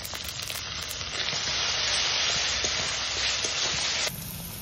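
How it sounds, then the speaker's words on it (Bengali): Onion paste sautéing in hot oil with ginger, garlic, green chili and tomato paste, giving a loud, steady sizzle and crackle that swells mid-clip and carries on without talk. "পেঁয়াজটা 2 মিনিট আমি একটু কষিয়ে নেব। এখন দিয়ে দেব আদা, রসুন, কাঁচা লঙ্কা বাটা,"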